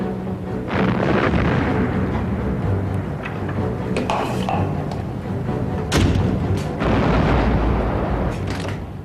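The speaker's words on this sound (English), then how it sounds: "Belfast's gunners loaded and fired hundreds of 6-inch shells" Naval guns aboard cruisers firing 6-inch shells in a sea battle, a continuous loud roar of heavy booms and thuds with sharper blasts standing out, no voices.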